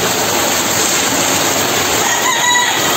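A rooster crows faintly beneath a steady, heavy roar of typhoon rain during Typhoon Kristine in the Philippines, the call briefly rising near the end without breaking through the downpour.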